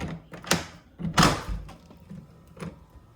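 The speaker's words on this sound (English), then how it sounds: "So this door comes out to the pool." A door to an outdoor pool area opening in a house with a bathroom, giving a few close thumps and rattles, fairly quiet, with no voices.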